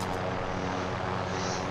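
A helicopter in the shooter game Warzone gives off a steady, loud engine and rotor drone that fills the whole moment with no voices over it.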